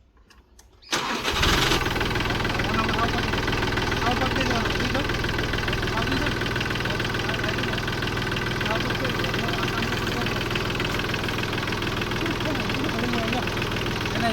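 An engine starts after about a second of near quiet, then settles into a loud, continuous, rattling idle close by that lasts to the end.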